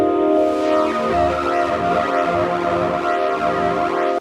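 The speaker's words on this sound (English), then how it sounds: "I found this really neat way to add some phasing distortion to your sounds like this." A dense, sustained tone swept by a phasing distortion effect, with notches gliding up and down steadily before cutting off abruptly.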